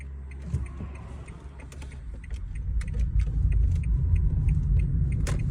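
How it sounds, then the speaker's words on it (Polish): A 20-year-old Renault Megane converted to electric power drives along very quietly, giving only a low, soft road rumble that slowly builds, with faint scattered ticks and rattles. "Auto po prostu jeździ jak auto w automacie, tylko bardzo cichutkie."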